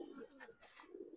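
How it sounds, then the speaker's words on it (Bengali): A male Jabra pigeon gives a brief, quiet cooing burst, close and soft, with faint background noise around it. "জাবরা পাখি নর"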